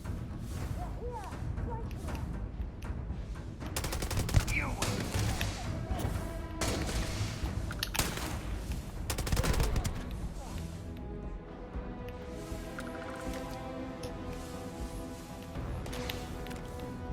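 Gunfire and explosions from a firefight outside a trade authority space station in the video game Starfield, with dense bursts and thuds continuing under a busy mix and a person talking over it.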